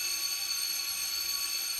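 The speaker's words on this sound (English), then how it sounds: "Out of nowhere, the fire alarm goes off." A fire alarm rings out in the visual novel 9-nine-: a shrill, steady electronic tone that holds at an even loudness for the whole stretch, with no voices over it.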